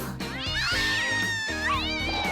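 A cat gives two drawn-out, rising-and-falling meows, loud and close, in a Thai family story about a young mother.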